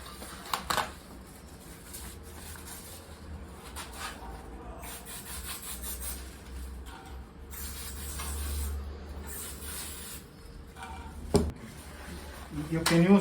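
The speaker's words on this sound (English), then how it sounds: "I will just degrease the brake disc just in case" A cloth rubs and wipes across a Shimano bicycle brake disc to degrease it, producing soft repeated scrubbing strokes with a brief spray-like hiss and a few light knocks, close and fairly quiet.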